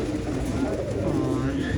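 Pigeons coo softly and steadily in a fancier's loft, a low murmur of several birds close by, with some faint background noise.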